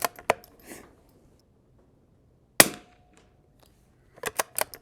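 A Winchester 52B rifle fires at 100 yards on an outdoor range: a couple of sharp cracks open the clip, one loud report lands mid-way, and a quick cluster of shots comes near the end, with quiet gaps between.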